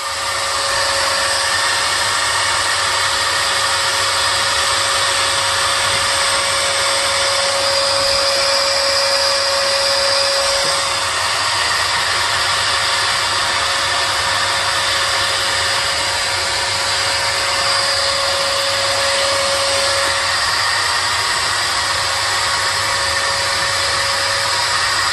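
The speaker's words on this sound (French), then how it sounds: "Maintenant je vais le mettre dans un grand sac poubelle et je vais le relier à l'aspirateur." A vacuum cleaner runs steadily while connected to a large trash bag holding fiberglass-resin work, giving a loud, constant motor whine with a hissing airflow that holds unbroken throughout.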